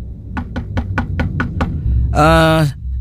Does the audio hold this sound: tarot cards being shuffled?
no